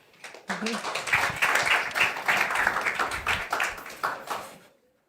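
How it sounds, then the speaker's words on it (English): An audience at a policy forum panel claps for several seconds, dense and loud at first, then the applause gradually thins out and fades to silence. "please give them a round of applause"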